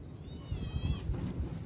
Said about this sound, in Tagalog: Ayun na yung mga pusa.